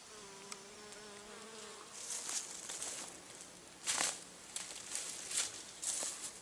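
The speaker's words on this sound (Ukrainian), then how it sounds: "І бджоли, бджоли, бджоли, бджоли." Faint bees buzz and drone close by in a quiet outdoor marsh setting with meadows of water mint, with short bursts of brighter rustling or buzzing passing through.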